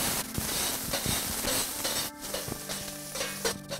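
Chopped onion frying in oil in a paella pan, a close, busy sizzle with crackles and the scrape of stirring throughout.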